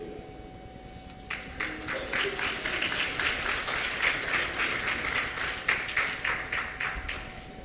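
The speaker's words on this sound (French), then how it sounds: "je vous demande de bien vouloir applaudir à nouveau Lilavoie Johanna" An audience claps steadily at a hosted ceremony, a moderate burst of applause that starts after a quiet moment, holds even and then thins toward the end.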